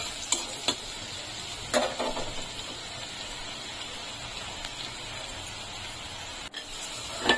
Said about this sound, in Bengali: এভাবে ভাজা ভাজা করে নিলে আমরা চেক করে নেব এটা ভালো করে সেদ্ধ হয়েছে কিনা।